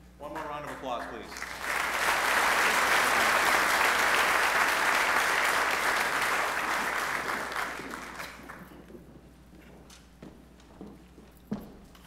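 An awards-ceremony audience applauds a senior honoree in a broad, sustained wash of clapping that swells after a couple of seconds, holds steady, then fades away, with a few scattered claps and a faint voice near the end.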